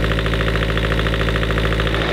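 A vehicle engine runs steadily at about 1700 RPM, a loud, close, even drone with a fast regular pulsing and no belt squeal, no voices over it.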